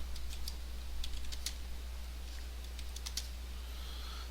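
Fingers tap steadily across a computer keyboard, a string of close, crisp key clicks over a low constant hum.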